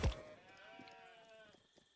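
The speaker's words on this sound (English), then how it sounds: "Oh, look at all my sheep." A sheep bleats in a video game with one drawn-out wavering call of about a second and a half, fairly faint, following a brief thump at the start.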